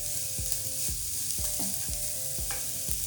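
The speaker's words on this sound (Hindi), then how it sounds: "और इसे भून लेते हैं।" Vegetables for a semolina bread fry in a pan with a loud continuous sizzle, while a spatula sweeps and scrapes through them at a steady pace, about every half second.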